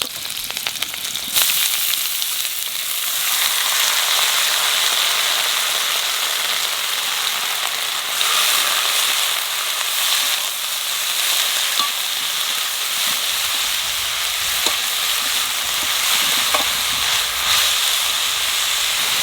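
Red peels and green chillies fry in a pan for a spicy Bengali side dish, giving a loud, steady hiss and sizzle that runs almost unbroken, close by and with no talking.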